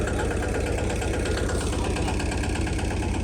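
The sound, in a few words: tractor engine running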